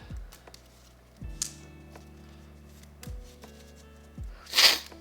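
Playing cards shuffled for a board game at a table, with a few separate riffle-like bursts, the last one loudest and sharpest, close and clear, no talk.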